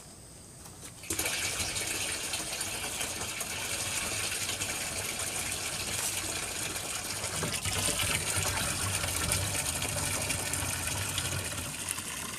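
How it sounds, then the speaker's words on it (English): Water gushing into a sprayer tank for food plot spraying, starting abruptly after a moment of quiet and continuing as a steady, loud rushing fill with faint mechanical clicks. "Now we're going to get the water"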